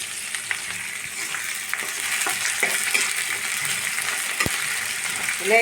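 Chopped okra frying in a pan with onion and cumin, giving a steady crackling sizzle up close, punctuated by occasional stirring scrapes and one sharp metallic clink, with no talking.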